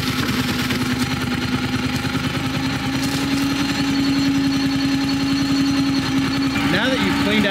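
A FINN T60/T75 hydroseeder engine runs steadily with the clutch engaged, a loud continuous mechanical drone with a faint rising throttle change near the end as pressure builds for hose flushing.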